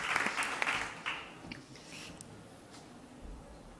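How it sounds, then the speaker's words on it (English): Brief applause at a startup summit as a speaker takes the stage, a short burst of scattered clapping that fades quickly into quiet room noise, fairly faint and distant. "Big applause."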